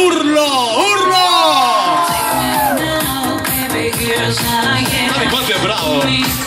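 A crowd lining the streets of Taurianova, Calabria, shouts and cheers during a horse parade, with rising whoops and yells that build into a dense, loud, continuous roar; voices call out close by.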